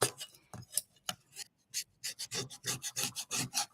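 A scraper drags across an Easter bunny craft in short, irregular strokes, starting sparse with pauses and then quickening into a rapid series of close, crisp rasping scrapes, with no talking.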